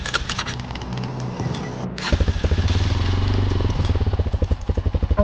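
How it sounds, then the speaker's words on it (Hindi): A motorcycle running out of petrol, its engine chugging and clattering close by, then shifting to a louder, uneven pulsing thump as it sputters toward stopping. "बाइक क्यों बंद हो रही है? ओ नहीं, पेट्रोल खत्म हो गया है"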